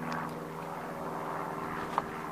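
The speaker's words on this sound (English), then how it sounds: "While the helicopter goes by" Helicopter flying overhead beside a small Honda Accord undergoing a timing belt job, a steady low rotor and engine drone holding evenly throughout, distant rather than loud, with no talk.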